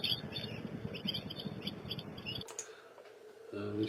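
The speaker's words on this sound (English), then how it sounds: "We've got a goldfinch on the feeder, as you can see." A goldfinch at a garden feeder gives faint, rapid twittering chirps over steady background hiss, then the calls stop abruptly partway through.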